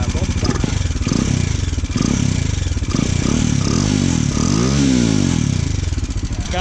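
A customized Bajaj Dominar 400 motorcycle with a catalytic converter idles and revs close by, giving a loud, steady low rumble with a short rising-and-falling rev, while people talk over it.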